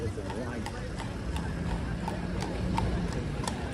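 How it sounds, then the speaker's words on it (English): Horse hooves clip-clop at a quick, steady pace on a Midtown Manhattan street at night, passing fairly close amid city traffic noise and people talking. "That horse was going fast."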